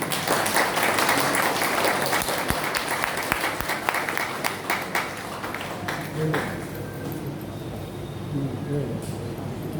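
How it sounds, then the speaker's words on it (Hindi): A seminar audience in Jamshedpur breaks into loud applause, sustained crowd clapping that thins out after several seconds and fades into room hum with scattered voices. "एक जोरदार ताली होनी चाहिए।"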